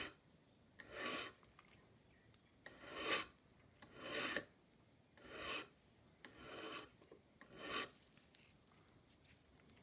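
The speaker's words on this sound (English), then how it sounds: "bevel in the end of the pin while we spin the pin vise around" A file rasping a 45-degree bevel onto the end of a brass pin in a spinning pin vise during an English Enfield mantle clock service, heard as six or seven rhythmic, close-up scraping strokes with brief pauses between.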